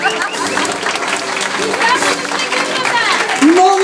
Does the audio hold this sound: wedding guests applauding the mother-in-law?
yes